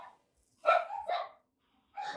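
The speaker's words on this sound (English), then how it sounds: "I actually still hear the dog whining. I have no idea what's going on. But it's only the one dog barking" A single dog barks and whines in two short, close bursts, the second after a brief pause, with no talk over it.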